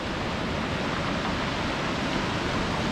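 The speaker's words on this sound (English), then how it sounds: "These waves rolling in here are massive." Large sea waves roll in on a pebble shore, a steady loud roar of surf and churning water filling the whole stretch, with no voices.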